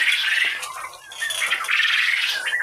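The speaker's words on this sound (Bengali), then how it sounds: "এই দেখেন আমার টার্কি মুরগিগুলো," Two-month-old turkeys on a farm squawk and chatter in a dense, continuous bird chorus, close by and fairly loud, with a brief dip in the middle and no talk.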